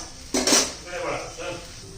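Okra with crushed peanuts stirred in a pan over a low flame: two or three close metal scrapes and clinks over about two seconds.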